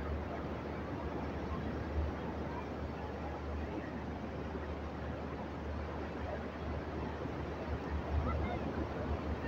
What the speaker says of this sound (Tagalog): Tapos ayan na ang alon.